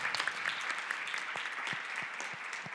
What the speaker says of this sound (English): let's give a warm hand of applause to the steering board